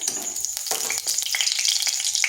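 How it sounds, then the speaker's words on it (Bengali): Black cumin seeds spluttering in hot oil in a wok, a steady close sizzle with sharp crackling pops throughout, no voices. "কড়াইতে দিয়ে দিচ্ছি তেল"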